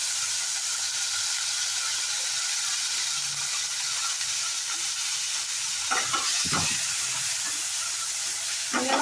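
Raw tomatoes with ginger-garlic paste and asafoetida sizzle steadily in a hot pan for aloo sabzi, a continuous close frying hiss with a few brief stirring knocks near the end.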